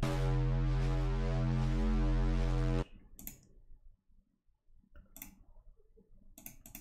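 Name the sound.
FM synth with oscillator B octave up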